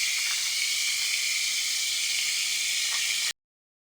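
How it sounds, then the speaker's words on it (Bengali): Potatoes fry with salt in a pan, giving a steady, even hiss and sizzle close by. It runs unbroken for a few seconds, then stops abruptly, with no voices. "আলুটা একটু ভেজে নেবো এর সঙ্গে।"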